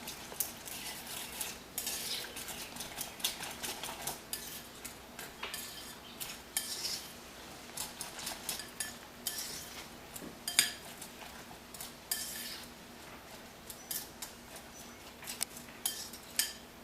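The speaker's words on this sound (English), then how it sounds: "some celery, a lot of mushroom, and the chives. I'm going to give it a good mix." Chopped peppers, celery, mushroom and chives are mixed in a bowl with a utensil, giving repeated close scraping and clinking strokes in an uneven rhythm, fairly quiet and without any voices.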